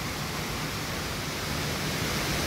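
A dense, constant roar of rushing water fills the space, steady and loud like a heavy torrent pouring down through dam floodgates.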